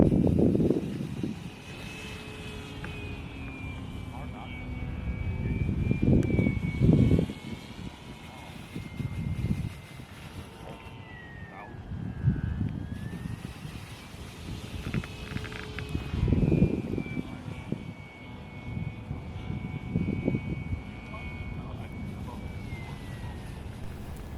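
A small radio-controlled model jet, an E-Flite UMX MiG 15, whines as it flies passes and comes in to land, its electric motor tone rising and falling with distance under wind buffeting and intermittent talk.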